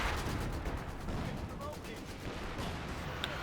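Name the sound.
mortar and support gun fire in Company of Heroes 2 video game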